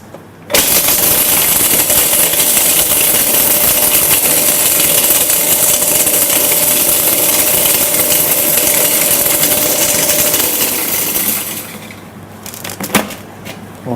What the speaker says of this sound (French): Alors je vais au mixeur. Ça aussi, ça va très vite, hein, le mixeur.